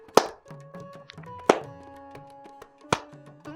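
Three loud, close hand claps at a slow tempo, evenly spaced with long pauses between them and faint room ring after each.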